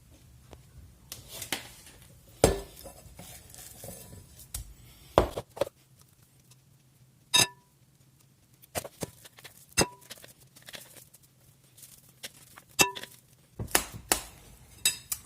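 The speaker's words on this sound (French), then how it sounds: "Donc je vais le transvaser dans un plat." Burger mixture scraped and spooned from a bowl into a dish, heard as scattered clinks and taps of utensil against crockery, sharp and close, with quiet gaps between.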